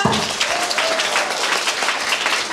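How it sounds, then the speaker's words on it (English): An audience at a school memorial event in a Karbi community claps for a performer, a brisk, steady burst of many hands, close and fairly loud, with no talking over it. "Once again, please clap your hand for her"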